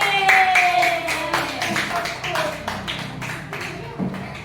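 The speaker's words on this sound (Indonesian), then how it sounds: "tepuk tangan untuk kelompoknya Raffi" Children in a classroom clap for a student group, a burst of uneven, close hand claps with a rhythmic feel, mixed with a sustained tone and a voice speaking over it.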